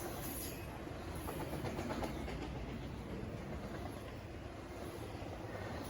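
A long intermodal freight train rolls past steadily, its wheels clicking and rumbling continuously at a moderate distance, with faint birdsong above the rail noise.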